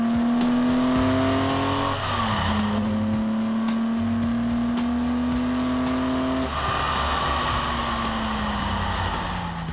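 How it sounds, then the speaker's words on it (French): Loud race car engines roar and rev past at Magny-Cours, their pitch shifting as they pass, one after another; one car has a Porsche-like engine sound. "Elle est pilotée par Eric Van de Viver et Patrick Boissard avec une sonorité de Porsche."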